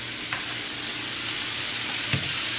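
Onions sautéing in a skillet with meat juices, cumin and dried oregano, giving a dense continuous sizzle with two brief stirring scrapes, close and fairly loud, no voices.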